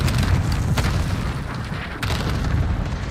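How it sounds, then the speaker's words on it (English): Cluster strike explosions in Call of Duty Modern Warfare rumble as a dense, continuous barrage of deep booms, loud and close, with a few sharper bursts and no talking. "Enemy cluster strike incoming"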